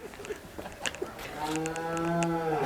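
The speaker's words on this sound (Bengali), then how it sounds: "বিশাল সাইজের গাভী আলম ভাই" A cow lets out a long, low moo that swells and holds steady, preceded by faint clicks and background noise.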